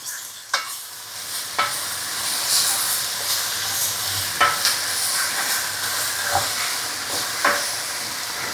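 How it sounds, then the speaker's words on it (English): Garlic and onions sweating over very high heat in a hot pan: a continuous hiss and sizzle, broken by periodic scraping stirs, close and fairly loud. "we're sweating both the garlic and the onions. Gonna caramelize them nicely"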